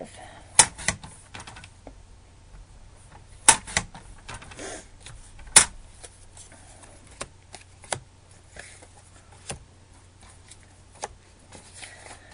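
Cardstock pieces being cut with a paper trimmer along a cutting guide for a balloon-themed scrapbook layout, sharp isolated snaps and slicing clicks spaced irregularly over a quiet room background.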